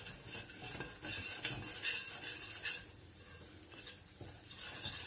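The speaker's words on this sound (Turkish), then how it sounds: "Hızlıca karıştırın, topak olmasın." A spoon stirs flour and tomato paste quickly in a pot for a baby's soup, with soft scraping and light clinks against the metal that stay quiet and close, and no voices.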